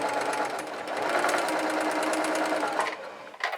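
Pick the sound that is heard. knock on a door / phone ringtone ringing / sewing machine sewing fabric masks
sewing machine sewing fabric masks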